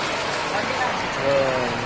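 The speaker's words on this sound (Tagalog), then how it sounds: "Ang lakas kasi ng ulan kaya nagstay muna kami dito" Heavy rain pours outside a street-food eatery, a dense, steady hiss that fills the whole stretch with no breaks, with faint voices and a few brief tones mixed in underneath.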